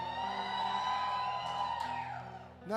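Church congregation at a lively worship service shouting and cheering together, a sustained crowd roar with whoops and a sharper burst near the end.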